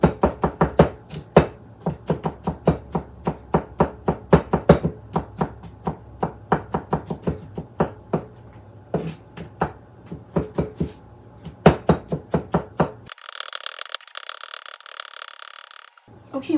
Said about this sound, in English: And then we're going to give it a good chop.